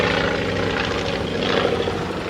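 A vintage triplane with a V8 Hispano engine drones steadily overhead at an Old Rhinebeck air show, a loud continuous engine roar with no speech.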